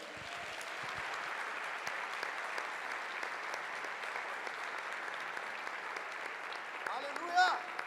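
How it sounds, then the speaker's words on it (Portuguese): Church congregation applauding during a worship service at a newly inaugurated church, steady broadband clapping throughout with voices mixed in and a brief louder burst near the end. "Pode aplaudir o Senhor com alegria?"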